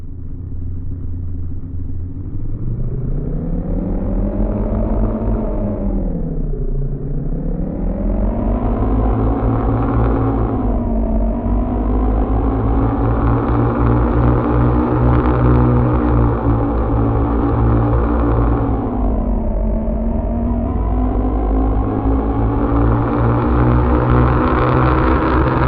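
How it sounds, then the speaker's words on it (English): A synthetic futuristic motor built with the AudioMotors engine plugin hums and whines continuously, its pitch swooping up and down through several rising revs and dips, loud and smooth with no voices. "AudioMotors can help you design groundbreaking futuristic motor sounds"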